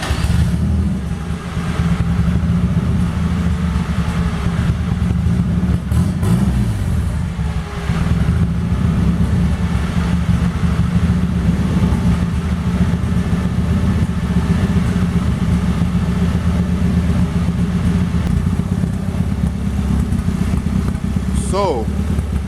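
A modified Toyota Paseo engine runs loud and close, with a raspy, droning exhaust note that holds steady with a few revs while someone talks over it.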